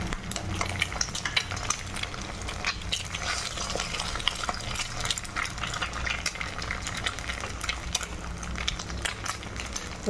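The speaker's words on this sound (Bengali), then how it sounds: "ডিমটাকে ভালো করে আমি তেলের মধ্যে ফ্রাই করে নেব" Two eggs fry in a little oil in a wok while a utensil stirs and scrapes, a steady crackling sizzle punctuated by frequent close metallic clicks.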